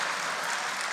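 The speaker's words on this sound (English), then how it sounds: "If you want more applause, I knew that was coming." Dense, continuous applause from a town hall audience, a steady wash of many hands clapping at once, loud and even throughout with no break.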